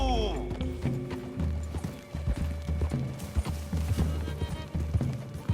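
Horses gallop through trees in the video game Red Dead Redemption 2, a busy run of close hoofbeats with a whinny at the start and game music tones underneath.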